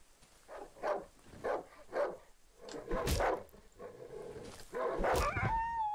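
Dog barking in the horror video game Darkwood, a series of sharp, fairly close barks and yips in an irregular rhythm, ending with a higher whine.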